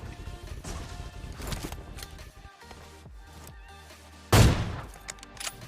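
Gunfire in a battle royale video game, with a headshot on an opponent in a house: a few sharp, loud shots, the strongest burst near the end, set against game ambience and no speech.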